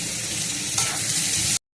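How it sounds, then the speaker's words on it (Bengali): Onions fry in a pan with a steady, close sizzle while being stirred, the hiss swelling slightly midway before the sound cuts off abruptly. "এখন পেঁয়াজগুলো দিয়ে দেবো,"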